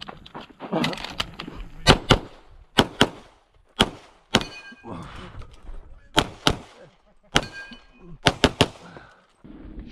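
Pistol shots from a CZ Tactical Sports ring out on a shooting competition stage in sharp bursts of two or three quick cracks, repeated over and over with short pauses between, close and loud, with faint talk in the gaps.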